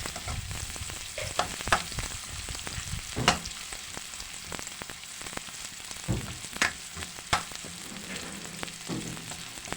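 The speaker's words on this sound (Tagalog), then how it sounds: "Haluin lang natin para mapantay ang luto." Sautéed tomatoes with dried fish are stirred in a pan: a soft, low sizzle runs throughout, punctuated by sharp utensil scrapes and clinks at irregular intervals, fairly quiet overall.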